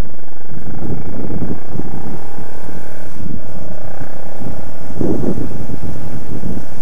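A 2009 Kawasaki 650R twin-cylinder motorcycle under way, its engine a low, rumbling drone beneath heavy wind buffeting, with the pitch rising and falling as it rides.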